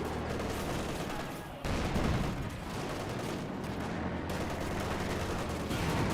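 Battle gunfire in Company of Heroes 2, with rapid overlapping shots, machine-gun bursts and heavy cannon fire from an M1 57mm-style gun against a Panzer IV, continuous and dense with brief drops in intensity.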